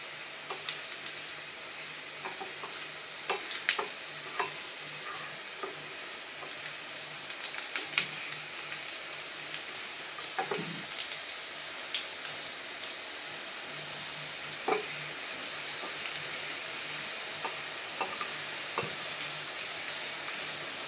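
Tempering (popu) sizzling and frying steadily in a pan for ven pongal (katte pongali), a continuous crackling hiss with scattered small pops, close and even, no talking.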